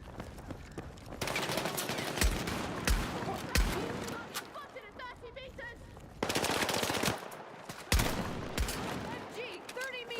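Bursts of automatic and machine-gun fire crackle through a Battlefield 6 battle, with sharp single shots and rapid strings of rounds recurring across the scene.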